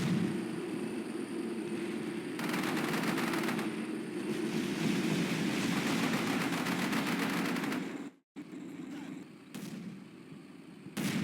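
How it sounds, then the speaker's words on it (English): A Leopard tank fires its main gun in the Combat Mission Shock Force 2 war game. Sustained loud booming and rumbling roll on for about eight seconds, then cut out briefly before quieter rumbles return. "The Leopard's first shot hits a tree."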